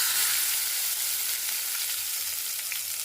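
Tempering spices hiss and sizzle in hot oil in a pan on a stove for a mint-tomato chutney: a steady, bright frying crackle that runs throughout without talk.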